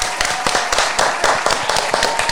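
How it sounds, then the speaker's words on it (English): Clapping from a small group celebrating a reached donation goal, a steady run of sharp, fairly close claps that carries on throughout. "Another clap for the goal."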